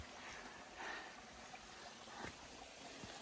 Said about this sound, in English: Crossing over a cute little stream here.